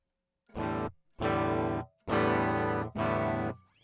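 Four sustained electric guitar chords ring out through heavy distortion effects, each held about half a second to a second with brief silences between.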